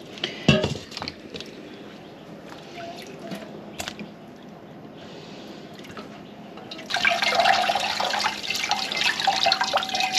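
Tap water runs and splashes over fresh homemade butter as it is squeezed to wash out the buttermilk. The sink sounds start low and steady, then grow into a louder, fuller rush near the end, with no talking.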